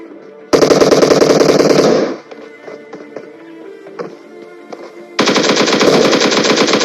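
Automatic gunfire in a video game, two long loud rapid bursts separated by a quieter stretch of footsteps and faint clicks, close and without talk.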